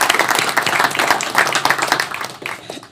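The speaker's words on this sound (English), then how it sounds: "that deserves a round of applause" A reception audience at a Congressional Black Caucus Foundation transportation equity event gives a short burst of brisk, uneven clapping that fades toward the end.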